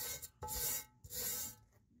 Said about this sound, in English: Just real lightly over it with this wire brush.